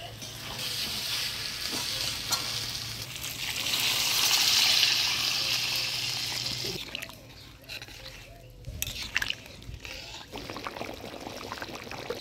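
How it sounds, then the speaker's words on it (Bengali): Boiled-meat stock poured into a pan of frying village-style mutton curry, a broad hissing sizzle that swells and then settles into quieter bubbling and stirring scrapes, with no talk. "এবার মাংস সিদ্ধ করে রাখা যে জলটা আছে সেই জলটা দিয়ে দিচ্ছি"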